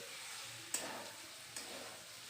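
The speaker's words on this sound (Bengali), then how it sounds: "উচ্ছে আলু বেগুনটাকে ভালো করে কষিয়ে নিয়েছি" Bitter gourd, potato and eggplant sautéing in a pan, a quiet continuous sizzle with two sharp utensil clicks of stirring, close and without talk.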